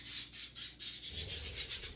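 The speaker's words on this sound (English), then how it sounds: "Birds are going bananas here." Outdoor birds squawk repeatedly in a fast regular series of shrill, bright calls, about eight in a row, loud and close, with a low background rumble and no talk.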